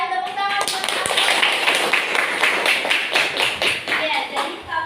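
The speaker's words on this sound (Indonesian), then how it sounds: "Tepuk tangan buat Amel." A class of young students clapping together for a classmate, a dense run of quick, close handclaps that holds steady for several seconds, with children's voices mixed into the applause.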